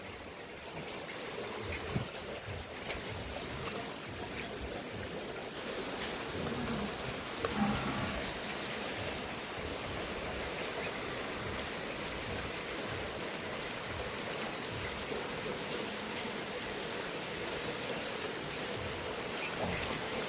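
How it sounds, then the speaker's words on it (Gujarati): Steady rain falls without a break, a dense even hiss that holds at one level from start to finish, with no voices and only a few faint ticks standing out. "હળવું વધતો જાય છે વરસાદ."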